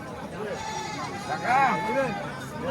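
Goats at a busy rural livestock market before Qurbani Eid give a wavering bleat near the middle, heard up close beneath steady conversation and crowd murmur.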